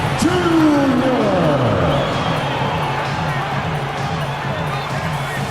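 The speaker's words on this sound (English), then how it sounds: "Another round of applause for your Memphis Grizzlies." A crowd at an NBA 2K25 Memphis Grizzlies home game keeps up a steady roar of cheering and hubbub for about five seconds, with a sweeping tone near the start.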